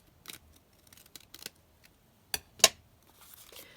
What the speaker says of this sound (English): Just going to cut it down slightly more.